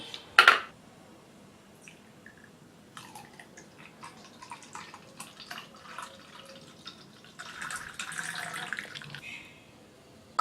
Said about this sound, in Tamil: இப்போ மில்க் ஷேக்கை நம்ம உள்ள ஊற்றிடலாம்.